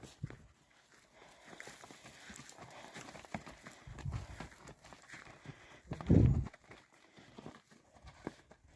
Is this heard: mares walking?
yes